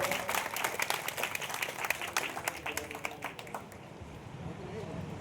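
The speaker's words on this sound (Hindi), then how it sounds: "जोरदार ताली से इनका स्वागत करें।" Loud applause from a crowd at a political speech event in Bihar, dense clapping that fills the first few seconds and then thins out as it fades toward the end.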